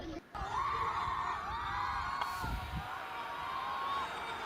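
A street crowd fights and yells, with loud overlapping shouting and screaming voices sustained throughout, heard from a moderate distance amid general commotion.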